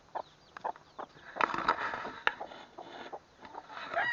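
Hens and chicks cluck in short, close bursts around a feeding spot, with soft pecking at scattered food mixed among the calls.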